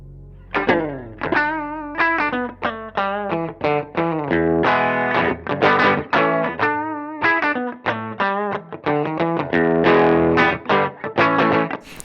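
A clean electric guitar plays a melodic run of single notes and chords through a ZVEX pedal into a Fender Deluxe amp, bright and ringing, with a light wobbling shimmer.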